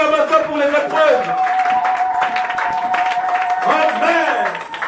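Church congregation clapping and cheering, a few seconds of mixed applause and raised voices with a sustained tone underneath, steady and fairly loud.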